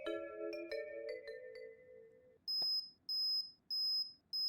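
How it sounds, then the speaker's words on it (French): A fire alarm in the Tattoo Shop Simulator video game gives a run of high electronic beeps, first a few softer tonal chimes and then four loud, evenly spaced sharp beeps alone with no talking. "mais ça c'est l'alarme incendie ça"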